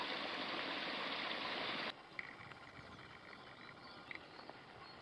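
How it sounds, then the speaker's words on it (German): A strong spring bubbling out into a stream on a hillside hike, a dense rushing, gurgling wash that cuts off abruptly partway through, leaving quieter outdoor ambience. "es ist schon eine kräftige Quelle, die hier sprudelt"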